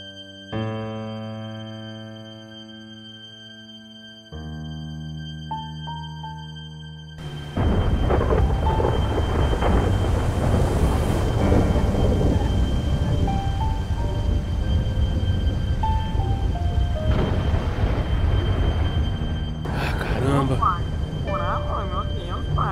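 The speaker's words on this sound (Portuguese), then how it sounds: "Nessa chuva, mano." Steady rain pours with deep rumbling in GTA 5 after a quiet musical intro, the downpour loud and continuous to the end.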